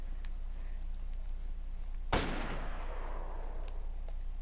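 One sharp gunshot from a rubber slug weapon in the video game DayZ cracks loudly mid-clip and then decays over a low, steady background hum.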